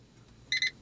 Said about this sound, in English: 1 beep is off, 2 beeps is on